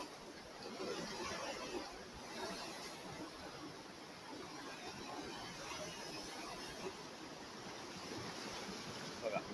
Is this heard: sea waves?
yes